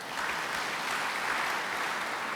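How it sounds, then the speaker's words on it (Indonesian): Congregation applauding during an online church service, a steady, fairly soft wash of clapping heard from a distance and lasting throughout, with no talk over it. "tepuk tangan bagi dia"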